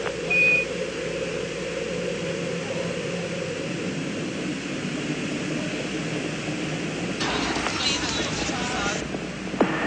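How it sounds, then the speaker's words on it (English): Space Shuttle Challenger rocket engines roar at liftoff as a steady, distant rumble with a broad hiss, and a brief burst of extra noise near the end. "Liftoff of the 25th Space Shuttle mission, and it has cleared the tower."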